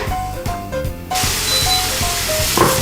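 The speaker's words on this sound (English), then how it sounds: "Once this is frying," Steady loud sizzling of garlic and tomato frying in a pan on the stove, a continuous hiss with a few brief clinks and scrapes, no talking.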